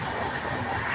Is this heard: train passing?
yes